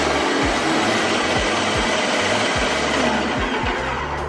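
A paint sprayer being primed runs as a steady, loud motor drone, with a regular thumping pulse about every half second and no talking.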